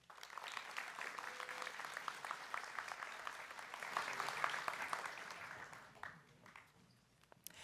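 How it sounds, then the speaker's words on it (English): Audience at an MIT graduate degree ceremony applauding master's degree recipients, a moderate crowd clapping steadily with faint tonal sounds mixed in, then thinning out and fading in the last second or two. "Please give one more round of applause for our master's degree recipients"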